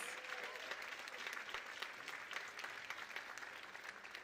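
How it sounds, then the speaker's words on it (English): Applause from the audience at a Dancing With The Stars charity gala honors the evening's sponsors: sustained, even clapping from a large crowd, fairly faint and distant, with no speech over it. "let's give them a round of applause."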